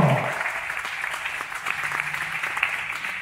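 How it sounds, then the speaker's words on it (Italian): An audience at a Wall of Death stunt show applauds steadily, a sustained wash of many hands clapping at moderate loudness, with a brief voice at the very start. "un applauso per la sua prima volta qui, Beno, da Monaco di Baviera, Beno."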